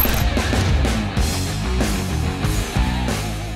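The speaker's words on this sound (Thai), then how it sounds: "เสียงยางครับยาง เป็นยาง MT ครับ" MT mud-terrain off-road tires on a 2017 Ford pickup rolling along a road, giving a loud, steady low hum and drone with a rhythmic tread pulse, heard inside the cabin without talk.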